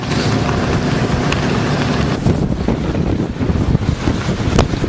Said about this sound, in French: la voile est bien secouée